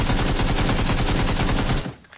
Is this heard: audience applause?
no